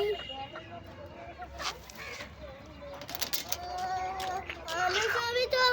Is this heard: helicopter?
no